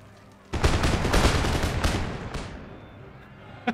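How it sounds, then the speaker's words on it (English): Musket volley fire in Empire Total War, a dense crackling burst of many muskets going off together, loud and sustained for about two seconds before fading into rumbling echo. "Make ready and fire!"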